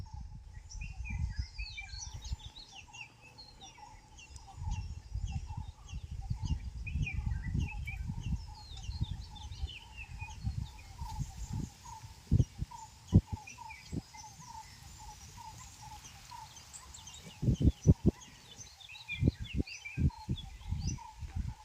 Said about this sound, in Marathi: जे प्राणी किलबिलाट करतात किंवा ओरडतात पक्षी ओरडतात